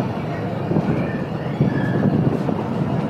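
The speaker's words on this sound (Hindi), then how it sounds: "और इस तरह जाफर एक्सप्रेस ने आहिस्ता आहिस्ता मूवमेंट शुरू की।" The Jaffar Express, a Pakistan Railway train, slowly starting to move: a steady low rumble and rolling noise with faint squeals, close and continuous, with people talking over it.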